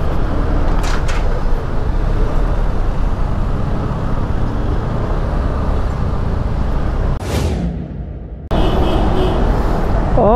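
Heavy road traffic on Marcos Highway near Ayala Mall, heard from an FKM Slick 400 scooter: a loud, steady roar of engines and road noise that dips briefly before surging back.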